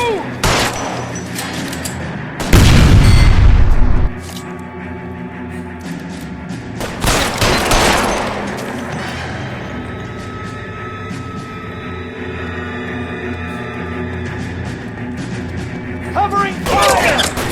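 Gunfire in L.A. Noire on PS5: a loud, dense burst of rapid shots, then a second volley with thuds, while shouting voices carry on over quieter stretches of action.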